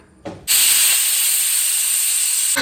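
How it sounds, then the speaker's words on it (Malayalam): After a brief knock, a loud, steady hiss of steam bursts out of a pressure cooker cooking green gram and holds for about two seconds, then stops. "കുക്കർ മൂടി വെച്ച് നമുക്ക് വിസിൽ വരുന്നത് വരെ വെയിറ്റ് ചെയ്യാം"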